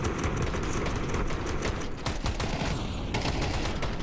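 Pistol fire in a Counter-Strike pro match, shots crackling in dense overlapping bursts with steady loud activity throughout, a brief lull near the middle before the volley resumes.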